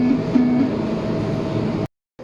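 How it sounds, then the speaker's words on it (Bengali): A Riyadh Metro train pulling away from the platform, heard from the front seat as a steady, loud rolling rumble with a low motor hum that runs on evenly before cutting off abruptly. "দেখতে পাচ্ছেন মেট্রো রেল চলা শুরু করেছে"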